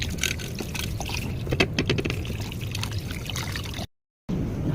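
Water pours steadily into a cooking pot for pork nilaga, a close, continuous splashing and gurgling fill that cuts off briefly near the end, then resumes.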